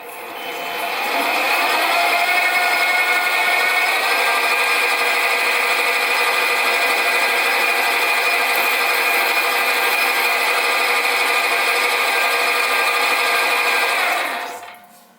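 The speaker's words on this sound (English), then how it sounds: "So now I'm just going to centre drill." A steady, high-pitched whirring grind of a centre drill cutting metal while making a small steam engine, continuous and close for about twelve seconds before stopping.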